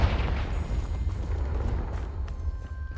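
A Confringo fire spell explosion in Hogwarts Legacy, a loud booming burst that rumbles and fades over a few seconds, with no talk.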